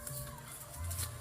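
Egg-laying hens cluck softly in short, faint calls, brief and close, with no talking.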